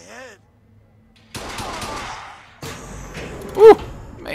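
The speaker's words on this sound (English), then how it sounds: "that shotgun is a beast" Shotgun fire in the video game BioShock Infinite, a few heavy booming blasts separated by quieter gaps amid game noise, with a voice talking over it.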